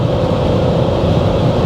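Constant wind roar inside a Dacia Duster Full Hybrid cruising at 130 km/h, a dense, even broadband hiss and rumble that fills the cabin without letting up.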